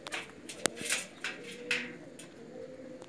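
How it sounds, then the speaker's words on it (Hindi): Pakistani flying pigeons, three males and two females, coo softly in an outdoor loft, with low repeated calls under faint scattered chirps and sharp clicks. "ये बेग बरादरान की जो आज बाजी में उड़ने वाले कबूतर हैं वो दिखा रहा हूँ"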